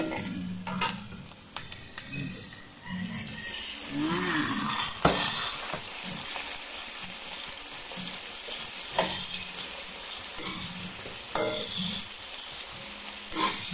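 Tomatoes drop into a pan of browned garlic and onion with a few clinks and shuffles, then a loud, steady frying sizzle takes over and continues, broken by occasional stirring scrapes.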